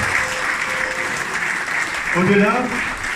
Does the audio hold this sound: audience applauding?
yes